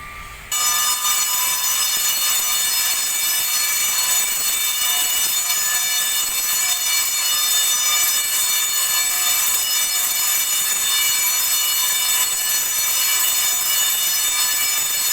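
A loud, steady electronic fire alarm blares continuously and unbroken during fire protection system testing, a harsh high-pitched tone that starts abruptly and holds for the whole stretch.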